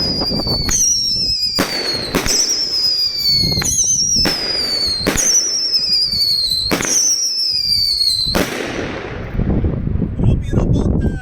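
A series of loud, sharp bangs from a ZomBoom ZBS301 Szakal pyrotechnic launcher at roughly one-and-a-half-second intervals, each trailed by a whistling shriek, with wind rumble throughout and a fading crackle at the end.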